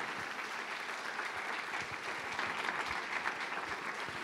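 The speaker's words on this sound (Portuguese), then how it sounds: "se possível você vai aplaudir o nome de Jesus" A church congregation applauds steadily, a fairly faint, even patter of many hands that holds for several seconds with no speech over it.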